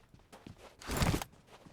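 Footsteps in PUBG Mobile on the Miramar desert map, a few soft steps followed by a louder, heavier crunching stretch, with no talking over them.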